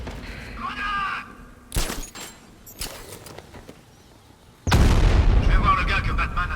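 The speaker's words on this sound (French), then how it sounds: "Grenade!" In the Batman Arkham Knight video game, a grenade goes off as a sudden loud explosive burst followed by a sustained roaring rumble, after earlier sharp impacts and bangs; a game voice speaks just before the blast.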